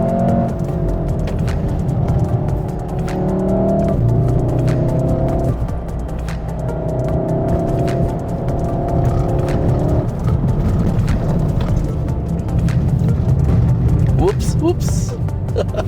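A car on the wet Genting hillclimb road during a Continental SC7 versus Pirelli P Zero tyre test, its engine droning loudly with rising and falling revs as it slides through bends, while people talk over it.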